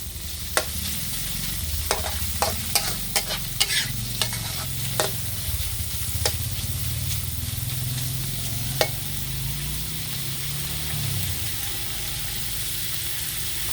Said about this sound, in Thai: ผัดใส่กันเลยค่ะ เพราะว่าหมูเราสุกแล้ว